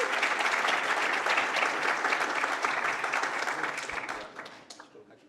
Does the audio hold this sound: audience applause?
yes